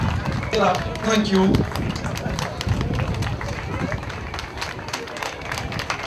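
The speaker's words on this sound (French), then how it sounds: "on applaudit très fort pour les éléments de la gendarmerie, de la police nationale, de la CRS" A crowd at a public gathering for Mali–Burkina Faso good neighbourliness, cheering for gendarmerie, national police and CRS units, claps in a dense, lively patter that runs throughout, with someone speaking over it briefly.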